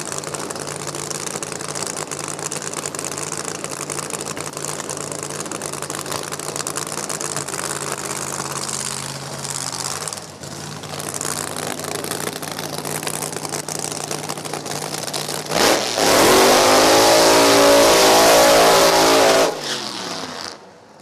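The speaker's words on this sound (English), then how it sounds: "Sounding sweet, lots of horsepower going down to the track here." Drag racing car engine at an NHRA Division 4 event at No Problem Raceway, idling and revving loudly and steadily, then a sudden surge to a full-throttle roar near the end before cutting off.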